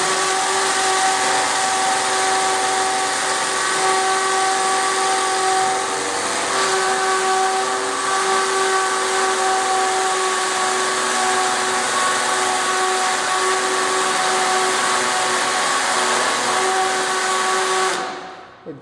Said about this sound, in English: It is that hard to drill into this surface